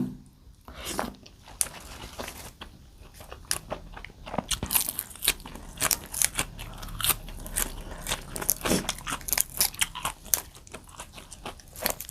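Someone eats fresh raw vegetables with spicy stir-fried jackfruit, chewing right up close and loud. The crisp crunches and bites come in a rapid, uneven stream, with no talking.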